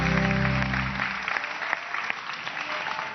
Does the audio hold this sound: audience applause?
yes